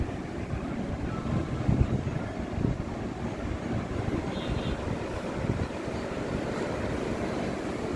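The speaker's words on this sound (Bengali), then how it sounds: "শুনতে পাচ্ছ তোমরা সমুদ্রের গর্জন" Sea waves roar steadily on the beach at Puri, a dense, continuous rumbling wash mixed with wind buffeting the microphone, with no voices.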